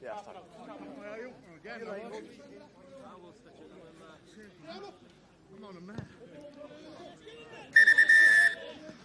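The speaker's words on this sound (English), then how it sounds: "The referee's whistle goes for half-time" A referee's whistle blows once, sharp and shrill, to end the first half of a Welsh Super Rygbi Cymru rugby match between Carmarthen Quins and Aberavon, following a commentator's talk over crowd chatter.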